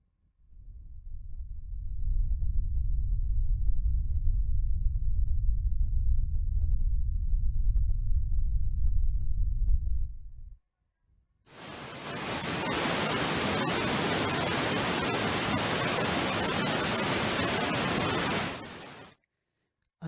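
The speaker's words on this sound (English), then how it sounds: "I'm going to run pink noise." Pink noise test signal played through an active three-way audio crossover with a subwoofer output: first a deep low-passed rumble for about ten seconds, a brief gap, then a full-range hiss held steady for about eight seconds before cutting off.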